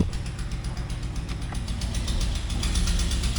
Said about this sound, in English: It engages gears.